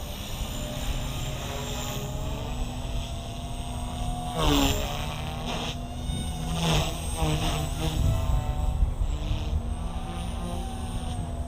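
A Blade Fusion 180 Smart RC helicopter flies nearby, its rotor and motor giving a steady whine whose pitch rises and dips as it maneuvers, occasionally growing louder as it passes closer.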